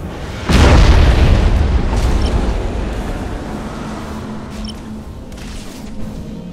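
A bio-torpedo fires and detonates in the space strategy game Battlefleet Gothic: Armada 2, a single heavy boom that hits at once and then rolls off into a long, rumbling decay with faint game effects over it.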